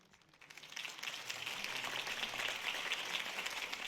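Applause from a crowd in the video game Batman: The Telltale Series swells up after a quiet start and continues as a steady patter of clapping, somewhat distant and soft.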